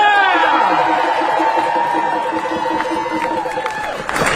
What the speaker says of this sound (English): let's have a really special cheer for our Tumuaki principals